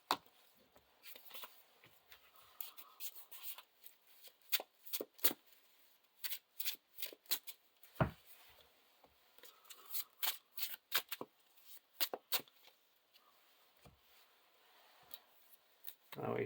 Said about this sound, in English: Now we shuffle the Ill Fate